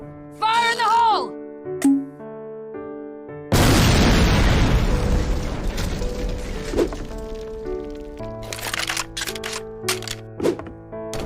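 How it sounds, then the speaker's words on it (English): Grenade launcher explosion in a video game: a sudden loud broadband blast that rumbles and decays over several seconds, with game music tones and scattered clicks around it. "Grenade launcher."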